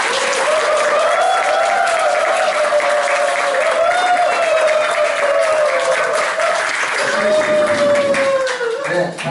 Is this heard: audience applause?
yes